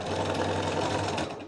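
A sewing machine stitching through a quilt, a fast steady mechanical chatter of the needle running continuously at close range, with no speech.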